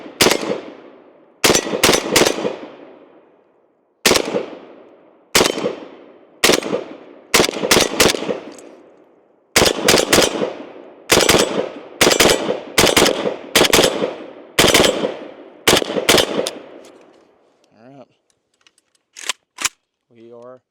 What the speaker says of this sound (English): Let's go ahead and take a few more shots with it, just a little bit slower this time, and see how well we can do with accuracy.